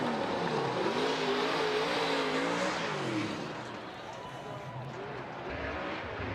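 Drift cars at Formula Drift Long Beach 2016, Top 16 round: a roaring engine wails and shifts pitch over a wash of tire and crowd noise, then eases off before building again toward the end.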